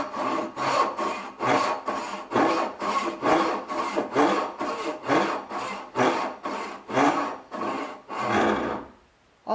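A Bad Axe hand saw cuts through wood in about fourteen quick, even push-pull strokes, up close and loud, ending with a short pause and one last faint touch.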